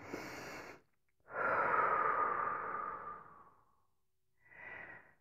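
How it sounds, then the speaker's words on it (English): A long, deep breath out rises after a short inhale and fades slowly, then a softer breath follows, close and alone during a calm anxiety-relief tapping exercise. "Take a couple of deep breaths there."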